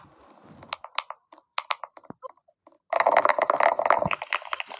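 Rapid clattering keystrokes on a computer keyboard, first as scattered light taps and then as a dense, loud burst of fast typing close to the listener.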